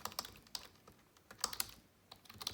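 Typing on a computer keyboard, a quiet, uneven patter of light key clicks in quick bursts with short pauses, heard close and alone.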